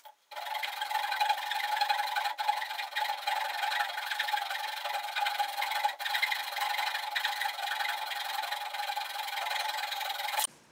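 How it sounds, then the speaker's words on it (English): A flush cut saw rasps steadily through a wooden plug on a wood lathe project, one long continuous sawing run, close and fairly loud with no pauses and no talk. "I'm just going to cut this plug off with a flush cut saw"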